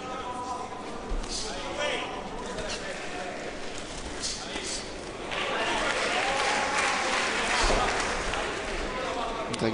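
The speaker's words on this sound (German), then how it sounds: "da gibt es Applaus auf offener Szene für diese Aktion von Solis und völlig zu Recht" Crowd in a boxing arena breaks into applause during a heavyweight bout, a dense clapping roar that swells in the second half, with a commentator speaking over it.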